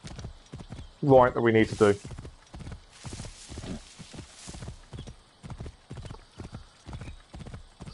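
Horse hooves clopping at a steady walking rhythm in the Assassin's Creed Origins video game, with a loud whinny near the start, while someone talks over the game sounds.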